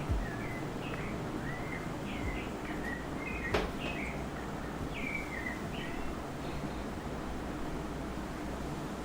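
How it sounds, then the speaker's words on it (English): Birds sing outdoors in short, high chirping phrases repeated through the stretch, fairly distant over a constant hiss of background noise, with one brief sharp click. "I'm glad you guys can hear the birds"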